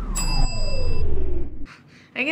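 A hand-struck quiz bell from a memory game challenge rings once with a bright, sustained metallic ding that slowly decays, followed by a brief stretch of quiet and a short burst of sound at the end.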